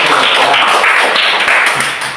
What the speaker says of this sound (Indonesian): Tepuk tangan. Saya senang kalau tepuk tangan.